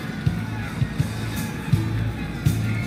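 Crowd noise from an arena in the video game Honkai: Star Rail, a continuous murmur of chanting and cheering with rhythmic low thumps, heard steadily throughout.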